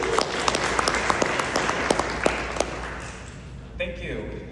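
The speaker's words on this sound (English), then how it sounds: "So let's give him another round of applause." An audience at a downtown symposium presentation applauds a speaker, a dense, steady round of clapping with sharp individual claps standing out, fading as a voice begins near the end.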